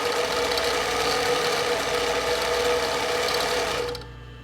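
An industrial zigzag sewing machine runs fast and loud in a steady, continuous whir, stopping abruptly near the end and leaving a low hum.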